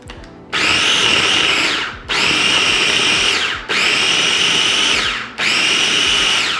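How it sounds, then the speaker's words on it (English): A food processor pulses cold butter into flour for an Easter recipe, four loud whirring bursts about a second and a half each, separated by brief pauses, with no talking. "You're just kind of pulsing it just to get the butter into those pea sizes."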